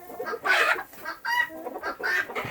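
Roosters and chickens in a backyard flock, several loud clucks and squawking calls in bursts, close by and without speech.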